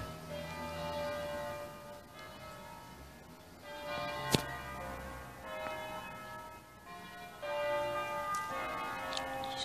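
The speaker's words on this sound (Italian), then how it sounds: "Ci sono le campane." Church bells ring out from a distance, their tones overlapping in a steady peal over faint ambient noise.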